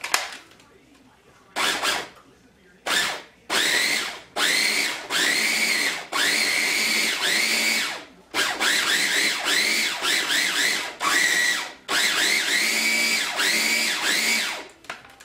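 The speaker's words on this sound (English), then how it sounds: "put them in your food processor. Then I'm going to pulse it until they're semi-finely browned" A food processor pulses crab pieces in repeated loud whirring bursts of one to two seconds, separated by short silent gaps, close up.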